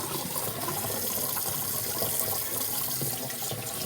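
A plucked chicken rinsed under a running tap, a continuous close gush of water splashing over the bird and into the sink, with no talk.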